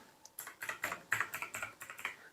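Fingers type a numeric code on a computer keyboard, a quick run of about a dozen crisp, close keystrokes in an uneven rhythm, with no voice.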